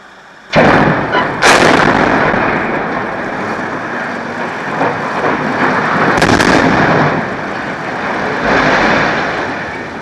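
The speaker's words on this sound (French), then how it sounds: "Quatre explosions et puis un lourd silence qui referme une page d'histoire." The HF6 blast furnace at a steelworks in Seraing is demolished with four explosions: a sudden loud detonation, then more sharp blasts within a second and again around six seconds, all over a long, thunderous rumble of collapse that fades slowly.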